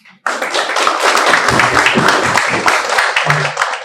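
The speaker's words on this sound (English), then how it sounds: "Huge round of applause." A conference audience breaks into steady, dense applause, many hands clapping at once and sustained for several seconds.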